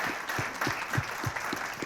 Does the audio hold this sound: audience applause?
yes